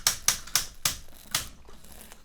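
Ratcheting joints of a Mastermind Creations Maximus Pro transformer figure being articulated, with a series of six sharp, crisp clicks at an uneven pace, close and clear, and no talking.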